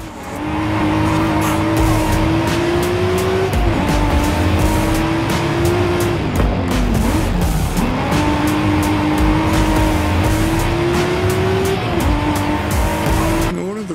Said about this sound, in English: the sound of this Skyline motor is just freaking incredible